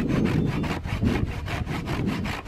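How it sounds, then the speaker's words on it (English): A Japanese pull saw cutting through 4x4 and 2x6 lumber for a playhouse foundation: a rhythmic, close rasp of repeated strokes, about ten quick pulls in steady succession, with no talking. "I'm gonna use the Japanese pull saw to get through."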